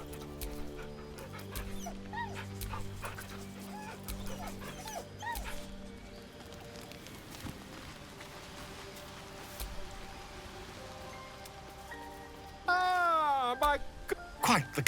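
A dog whimpers and yips in Baldur's Gate 3, soft whines and small cries mixed under narration and game sounds, ending with louder, rising whimpers near the end.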